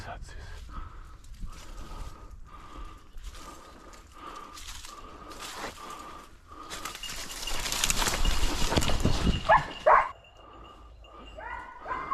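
A hunting dog during a woodcock hunt in woodland gives a run of short, regular barks at close range, with louder rustling and a burst of commotion midway.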